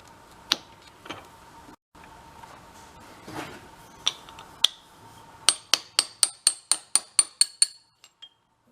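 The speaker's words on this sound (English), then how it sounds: "Hammer time!" Sharp metal hammer blows ring out while a Yamaha Enduro 360 engine is torn down after failing, a few scattered strikes first, then a quick steady run of about ten clinking hits, close and loud.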